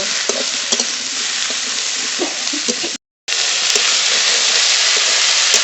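Onion, aubergine and potato frying with salt and turmeric in a pan for a rural Bengali vegetable and dried-fish curry, a steady close sizzle with scraping stir strokes throughout and a brief cut midway, no talk.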